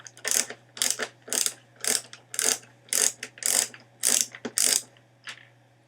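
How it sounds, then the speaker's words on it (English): Loud, near ratcheting clicks come in about a dozen evenly spaced bursts as the nine screws are backed out of a PS3 60GB console. "9 screws. So we'll start taking those out."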